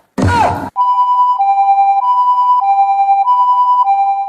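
A steady electronic two-tone siren wails continuously and loudly after a brief spoken burst at the start.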